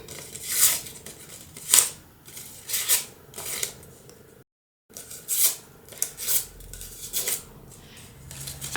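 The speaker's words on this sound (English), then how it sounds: "I'm going to use my scissors or a pen." Scissors snipping a paper decoupage layer for a handmade card, a series of crisp, close, separate cuts and rustles spaced a second or so apart, with soft handling noise and a short silent gap midway.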